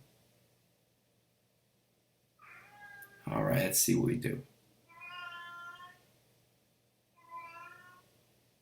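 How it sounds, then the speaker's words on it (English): A house cat meows several times in a drawn-out, rising series of cries, fairly close and clear, with a brief burst of rustling noise between calls and someone speaking quietly at the start. "Sorry, it's the cat."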